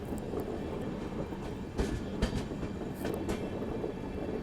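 A Mysuru–Varanasi train runs through Kashi railway station without stopping, heard from inside a 3 AC coach as a steady rumbling roar with sharp wheel clicks and clanks, no voices.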